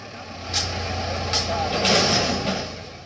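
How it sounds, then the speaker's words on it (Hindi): A JCB excavator clearing burnt vehicles from a street after riots, its diesel engine idling with a low steady rumble, punctuated by hissing bursts and clanks, with voices close by. "जेसीबी से जली हुई गाड़ियों को हटाया जा रहा है।"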